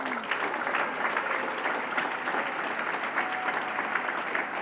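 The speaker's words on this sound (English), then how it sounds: "I want to give another round of applause to these 5 wonderful people who started our show" Full, sustained audience applause at a National AfterSchool Association gathering, honoring the national board of directors, dense and continuous with a faint crowd murmur beneath.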